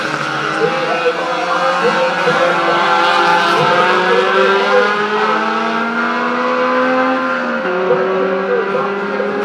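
Race cars lapping at Jamwest Speedway during a circuit street race, engines droning loud and sustained, with pitch rising and falling as they accelerate and shift through the lap.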